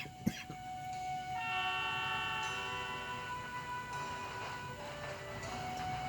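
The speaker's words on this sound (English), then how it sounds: "I've never been on a tram before." A tram in the video game Fate/Grand Order glides along with a low rolling rumble while long, sustained whistle-like tones rise and hold above it, steady throughout after a brief knock at the start.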